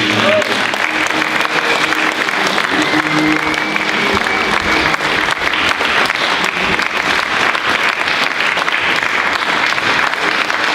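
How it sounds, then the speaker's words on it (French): A live audience applauds at length after a musical performance at a conference, dense steady clapping filling the room close and loud, with a few voices mixed in. "On peut applaudir et remercier Christophe pour cette prestation."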